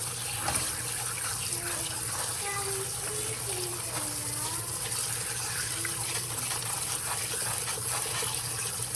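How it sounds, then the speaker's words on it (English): Tap water runs steadily over raw shrimp being rinsed in a kitchen sink, a continuous close gush with faint voices and a high-pitched child's sound under it. "We're almost finished rinsing."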